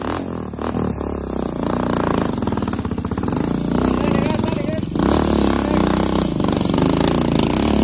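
An enduro motorcycle engine revs loudly and close on a trail in Parque Tunari, Cochabamba, the rider working throttle and clutch so it drones with rhythmic pulsing and rising and falling pitch, while someone speaks over it.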